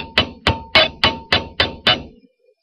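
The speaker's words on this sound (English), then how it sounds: "I give this side a bit of a hammer so it matches the other." A hammer strikes a wire-wrapped jewelry loop seven times in a steady rhythm, each blow a sharp, close metallic tap that rings briefly. Silence follows the last strike.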